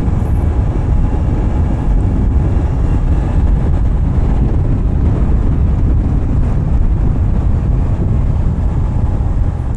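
Strong wind roars continuously across the microphone as a loud, dense low rumble with no break, likely outdoors on a winding mountain road.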